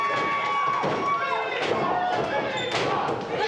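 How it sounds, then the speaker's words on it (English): Wrestling fans at an SWG show roar and cheer wildly throughout, a dense, steady crowd din with rising shouts and scattered thumps from the ring. "look at the crowd here at the SWG. They're going crazy."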